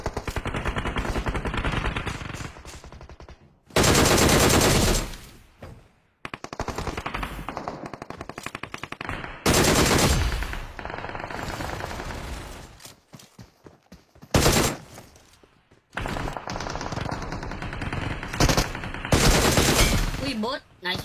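Rapid automatic gunfire from a red gun in a video game, long sustained bursts broken by short pauses, loud and close, with occasional quieter gameplay sounds between the volleys.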